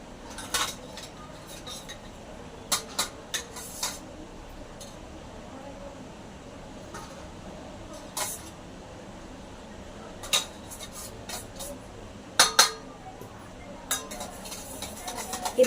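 Omelette mixture being whisked in a bowl, giving scattered sharp clinks and scrapes of utensil against the dish over a faint, steady room hum, with no voices.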